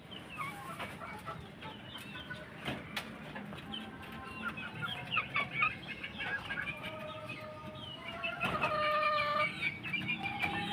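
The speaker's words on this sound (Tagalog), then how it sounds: "Silip ko lang sa inyo yung aking mga cockerels." Backyard cockerels clucking and calling in a run, with several crowing bursts rising above the steady chatter, near and fairly clear, with no talking.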